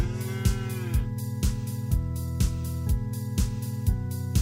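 A cow mooing, a loud, long low call with rising and falling pitch, backed by a rhythmic thumping beat repeating about every half second.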